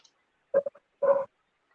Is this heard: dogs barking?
yes